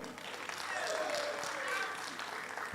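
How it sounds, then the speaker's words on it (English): An audience at a national investment quiz competition semi-final applauds a school, a steady wash of clapping that swells briefly and then holds, with a voice speaking faintly under it. "Let's clap for them"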